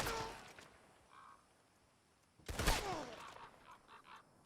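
Lancaster repeater rifle firing in Red Dead Online: sharp, loud shots separated by a couple of seconds of quiet, each followed by a short ringing tail.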